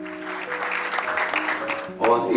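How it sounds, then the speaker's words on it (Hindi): An audience at a church music program bursts into applause near the end, loud and sudden, rising right after a speaker's voice over a sustained musical tone. "उनके लिए भी भरपूर तालियां बजाई जाएं"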